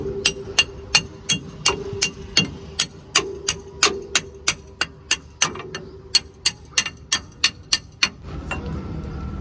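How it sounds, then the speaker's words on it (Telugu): Metal wrench tapping a part to knock it out, a steady series of about two dozen sharp, ringing strikes at an even rhythm, close and fairly loud over a low background hum. "కొట్టాలి కొంచెం లైట్గా కొడితే, ఇటు సైడ్ నుండి కొడితే రెంచ్ తోటి అదే బయటకు వచ్చేస్తుంది"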